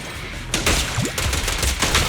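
Video game gunfire in Zenless Zone Zero: a dense, continuous rattle of rapid shots over busy game effects, loud and steady for about two seconds with no talk.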